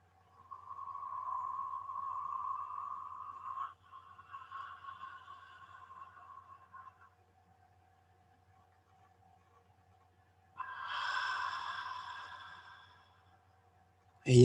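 Open-throat inhalation, deliberately widening the neck and throat: long, airy breaths with a faint hollow tone, two drawn-out passes then a louder breath after a pause, close and quiet under a low steady hum.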